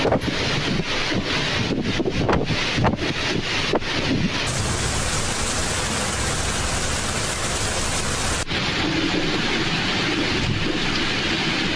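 Torrential monsoon rain pours down in Sindh, a dense, loud, continuous roar with heavy wind buffeting on the microphone and a few sharp knocks, with no voices.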